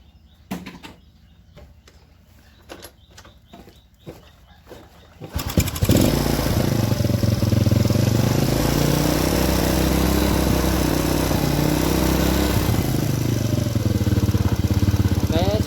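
Quiet clicks and rustling, then a carbureted Honda Supra motorcycle engine with blackened spark plugs and stalling trouble starts and runs steadily at a loud, rough idle close by.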